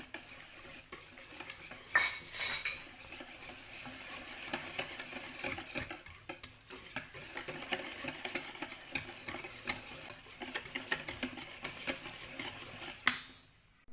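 Batter is stirred in a bowl with a utensil, a busy run of close scraping, clinking and tapping against the bowl that keeps going steadily, with a few louder knocks.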